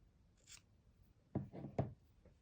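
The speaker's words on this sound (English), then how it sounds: "Now we can take the yarn and cut it." A pair of scissors snipping yarn during crochet, a couple of soft close cuts with a brief rustle between them, quiet overall.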